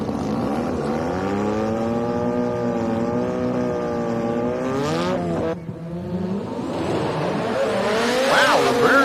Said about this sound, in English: we're going to be launching into burnout, get her a little sideways, pop her into a second gear to be able to increase the tire speed